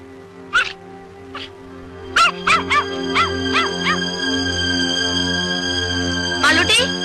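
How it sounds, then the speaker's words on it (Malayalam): Near, loud dog barks come in short bursts, singly at first and then in a quick run of four or five, then a final cluster, over a steady low hum of background sound. "എന്താ ഈ പട്ടിക്ക്?"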